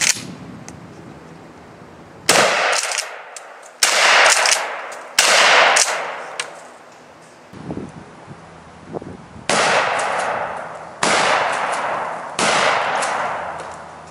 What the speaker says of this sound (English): I'm gonna show you the difference between firing from the hip and actually aiming down the barrel and using that front bead sight to get the shotgun on target.